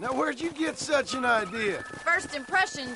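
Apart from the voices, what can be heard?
No everyday noise stands out behind the speech.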